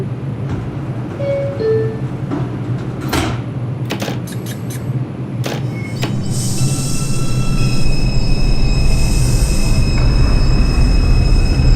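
An R142 subway train departs in the OpenBVE train simulator, with door chimes and clicks, a rising motor whine and rumbling wheels that grow louder as it gathers speed.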